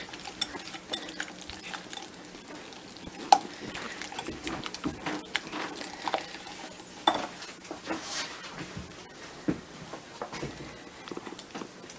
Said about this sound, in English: Just whisk.